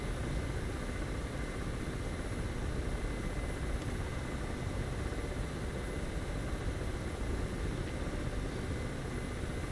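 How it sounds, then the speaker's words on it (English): A Ka-50 coaxial attack helicopter in a flight simulator holds a hover, its engine and rotor making a steady, dense, unbroken roar with a low throbbing rumble throughout. "we're going to set up behind it in a hover"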